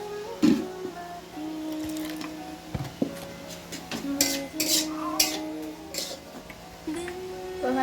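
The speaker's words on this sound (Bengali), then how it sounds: "দিয়ে একটু জল দিয়ে নেড়ে দেবে।" Masala with a little water being stirred in a kadai for an egg curry: soft scraping, knocks and clinks of a spoon against the pan, irregular and close, with faint background noise.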